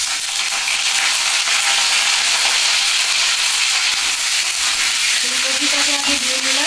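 Cauliflower frying in hot oil in a pan, cooked for a Saraswati Puja khichuri lunch, giving a steady loud sizzling hiss throughout with a brief stirring scrape near the end.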